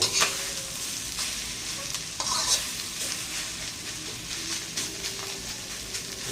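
Preserved radish and egg stir-fried in a pan, with a continuous sizzle and scraping spatula strokes at a steady close-up level.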